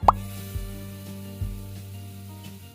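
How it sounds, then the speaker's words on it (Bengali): A spoonful of tomato paste drops into hot oil with bay leaves and a dried chilli, landing with a single sharp plop followed by a soft, steady sizzle and a few faint pops. "এবার দিয়ে নেব 2 চামচ মতো টমেটো বাটা।"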